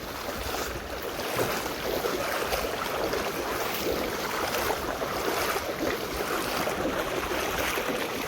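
Knee-deep floodwater from a river surges through farm fields and into Kikariya village after heavy unseasonal rain, a loud, steady broadband rush that continues without a break and without voices.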